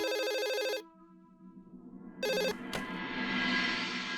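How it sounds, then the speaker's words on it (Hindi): A telephone rings in a bright electronic trill, pauses, then rings again briefly before giving way to a softer rumbling background. "मेरा फोन होगा।"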